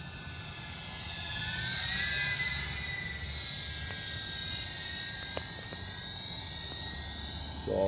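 A UMX C-130 radio-controlled model airplane flies overhead, its small electric motors giving a steady high whine that rises and falls gently in pitch against faint outdoor background noise.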